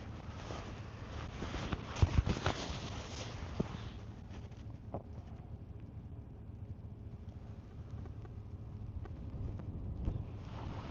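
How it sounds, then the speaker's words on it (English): Night wind gusting over a river during carp and bullhead fishing, a low rumbling buffet on the microphone that swells in the first few seconds and then settles to a steady faint rush, with scattered small knocks. "Yeah, I hear the wind now. It was probably the wind."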